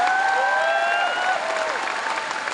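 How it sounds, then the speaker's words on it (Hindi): Stadium crowd clapping hard at a business success-day event, a dense roar of applause that carries on throughout with a few whistles over it. "प्लीज इतनी जोर से तालियां बजाना इन सबके लिए"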